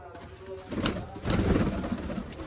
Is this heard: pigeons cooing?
yes